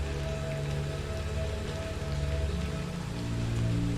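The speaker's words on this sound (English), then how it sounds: "As you stand in the rain," Steady rain falls continuously, a dense, even patter of drops on a surface with a low, rumbling undertone, moderately loud throughout.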